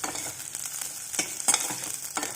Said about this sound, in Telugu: ఇలా ఇప్పుడు ఆనియన్స్ ఫ్రై అయ్యాయి కదండి